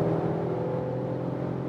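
Mercedes-Benz E-Class All-Terrain facelift crossover wagon pulling away, a steady, moderately loud engine and road drone with a low hum running throughout, no voices.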